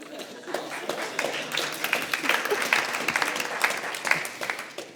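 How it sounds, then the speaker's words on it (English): An audience at a design talk about open source breaks into applause, a moderate, fairly close burst of many hands clapping that swells and holds for several seconds. "I didn't expect applause, but I'll take it."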